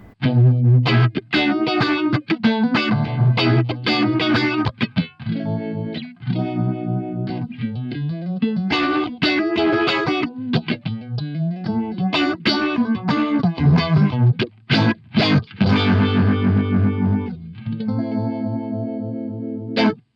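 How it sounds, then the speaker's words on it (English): Electric guitar riffs through an envelope filter on a Keeley Bubbletron pedal, a funky, vowel-like quack, loud and continuous with sharp attacks and sweeping tone. "It sounds more like an envelope filter, possibly."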